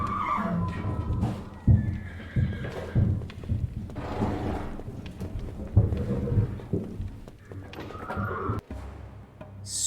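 Nervous horses in the video game Secret Files 3 whinny loudly and clop their hooves nearby, with scattered thuds and shifting noises among the neighs.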